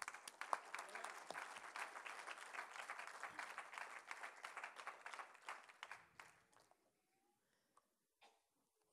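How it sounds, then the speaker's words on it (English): An audience claps steadily after a devotional bhajan performance at a birthday celebration, dense applause that thins out and fades to scattered claps near the end. "We can thank them with our applause."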